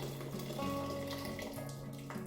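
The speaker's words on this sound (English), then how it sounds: "take out all the water" Water is poured out of a freshly sterilized glass jar, a faint, steady trickling stream with shifting tones as the jar empties.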